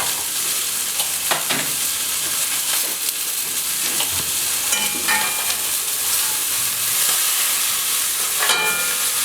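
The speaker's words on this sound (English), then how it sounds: "So I'll let my fish to be a bit crispy." Cod fillets sear in a hot pan with a continuous loud sizzle and hiss, with occasional sharper spits and crackles throughout.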